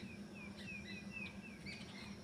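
Faint birds chirp and whistle in short repeated morning calls over a low steady hum, distant and quiet.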